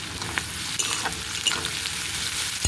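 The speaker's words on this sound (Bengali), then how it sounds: "পেঁয়াজটা আরও দু তিন মিনিট লাল লাল করে ভেজে নেব" Chopped onion sizzling in hot oil with garlic, salt and turmeric, a dense continuous frying hiss close up with light stirring scrapes throughout.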